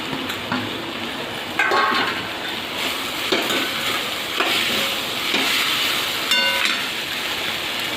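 Cluster beans tipped into a hot pan and stirred, giving a steady sizzle broken by several sharp scraping and clanking strokes of the spoon against the pan.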